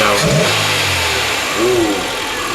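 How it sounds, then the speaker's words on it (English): A Kia car engine revs briefly, a mid-pitched rise and fall that swells and fades within a couple of seconds, close by over steady background noise. "Let's rev it. Rev it up. Do a rev."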